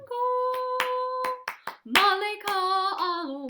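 Rhythmic hand claps in a tango clapping exercise, a run of sharp claps broken up by a sung voice.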